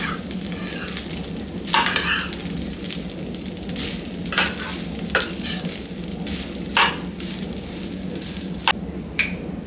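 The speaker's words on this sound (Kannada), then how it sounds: "ಈಗ ಇದನ್ನ ಚೆನ್ನಾಗಿ ಮಿಕ್ಸ್ ಮಾಡ್ಕೊಳ್ಳೋಣ." Coconut rice is stirred and mixed in a pan over a steady sizzling hiss, with a spoon scraping through the grains in irregular bursts roughly every second or two.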